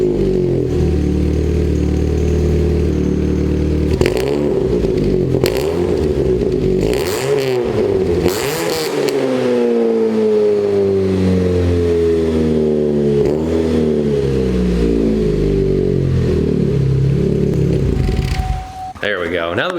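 A Chevrolet Cobalt SS with its stock exhaust revs repeatedly from idle, close and loud, with several rises and falls in engine pitch and a long climbing rev before dropping back, while someone talks over it.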